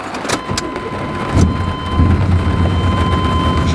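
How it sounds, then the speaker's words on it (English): Rain begins falling around a truck during a thunderstorm, a close, loud, broadband wash with a few sharp knocks early on, then low rolling thunder swelling and rumbling steadily underneath. "It's just starting to rain. Got a lot of thunder going all the way around too."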